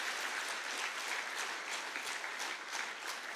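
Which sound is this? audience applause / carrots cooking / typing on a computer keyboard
audience applause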